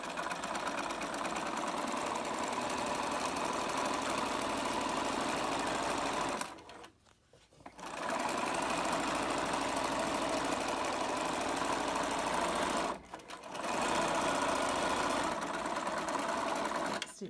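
A domestic sewing machine stitches a cotton scrubs bag seam with a 3 stitch length and 1.5 seam allowance, running in a steady close whir with two brief pauses, one of them for a backstitch.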